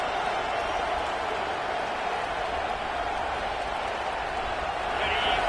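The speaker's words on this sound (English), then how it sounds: "This crowd, full throat, spreading the eardrums and letting him know it's going to be a long day" A large stadium crowd at a football game roars loudly and continuously, a dense, steady wall of cheering with a voice faintly underneath.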